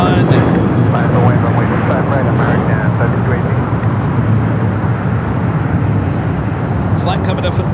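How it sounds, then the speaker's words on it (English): A Boeing 737-800 airliner arriving from Tucson, Arizona roars steadily and loudly on approach, a constant broadband rumble lasting the whole stretch, with speech mixed in. "Flight coming up from Tucson, Arizona, the 737-800"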